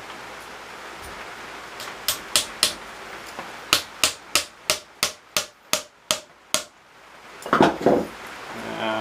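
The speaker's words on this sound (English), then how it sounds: "hammer one in on this side" A mallet drives a stake into the ground while a slide-wire drowner is being set for trapping: about ten sharp, evenly spaced blows ring out up close, followed by a brief rustling scrape.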